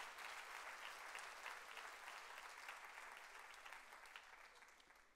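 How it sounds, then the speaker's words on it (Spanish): A church congregation claps together in a dense, steady round of applause that slowly fades, heard from some distance. "Démosle un fuerte aplauso al Señor."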